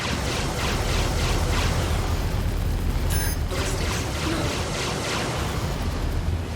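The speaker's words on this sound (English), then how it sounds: "Whoa, explosion." Space-combat explosion in the video game Star Citizen: a dense, loud rumbling roar that holds steady throughout, with a brief crackling burst partway through and no speech.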